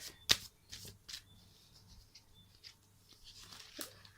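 Tarot cards are shuffled and drawn during a reading, producing soft, close-up riffling and sliding rustles with a few sharper snaps, one crisp flick standing out early.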